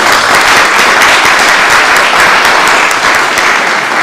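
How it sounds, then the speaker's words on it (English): Sustained applause from a large conference audience honouring the workshop leaders, dense and steady clapping filling the hall at full volume throughout. "Applause for these people who worked and made these workshops."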